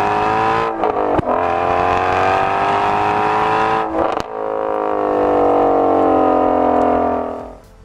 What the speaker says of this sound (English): you get that thrilling, quick revving V8